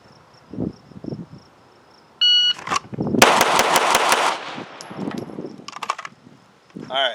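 A string of pistol shots rings out at an outdoor shooting range during a timed drill, loud sharp cracks in a fast burst, with a short beep before it and faint voices at the start and end.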